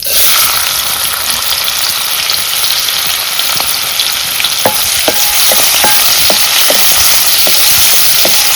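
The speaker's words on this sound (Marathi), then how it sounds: "तेल तापलं आता कांदो घालते." Loud, dense sizzle of onion frying in hot oil in a village kitchen, with a series of sharp spatula taps against the pan in the second half.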